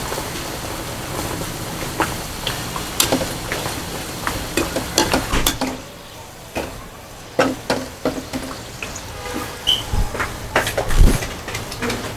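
Peas-stuffed matar kachori frying in hot oil, with a steady sizzle and bubbling broken by repeated scraping and clinking of a utensil stirring in the pan.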